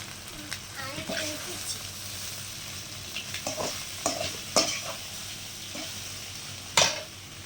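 Egg poriyal fries in a pan with a soft steady sizzle, while a spoon stirs and scrapes with scattered clinks and a sharp tap near the end.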